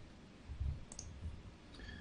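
A few soft, close computer mouse clicks in a quiet room while working in Cinema 4D, with faint background hiss and no talking.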